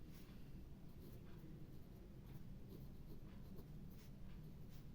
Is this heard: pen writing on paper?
yes